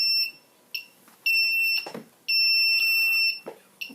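An X Racer F303 V2.1 flight controller on USB power emits repeated shrill electronic beeps after losing signal, long and short tones alternating in an irregular pattern, close and clear.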